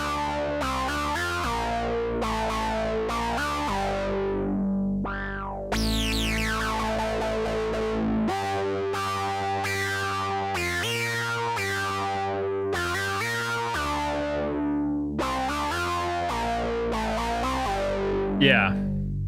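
Resonant filtered synth notes rise and sweep in a sustained, harmonically rich sequence with squelchy peaks, played up close for about nineteen seconds while a voice talks over part of it.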